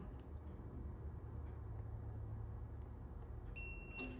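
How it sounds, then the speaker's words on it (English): Over a low, steady hum, a torque wrench tightening engine head studs gives a few high electronic beeps near the end, fairly faint and close by. "you're gonna hear the torque wrench beep on this one"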